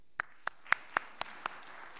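A few people clap to welcome a speaker at a business guest-speaker event, six or so sharp, evenly spaced claps about a quarter second apart, sparse and fairly close rather than a full crowd's applause, with no talk over them.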